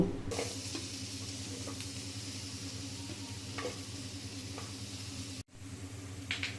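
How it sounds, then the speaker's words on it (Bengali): Onion, garlic and green chili fry in oil inside a rice cooker, giving a steady close sizzle with occasional stirring scrapes and a brief break near the end. "এখানে আমরা এই সব উপকরণগুলো আমরা ভেজে নিব।"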